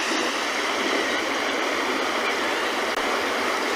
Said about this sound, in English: Of course, the sound of the ocean.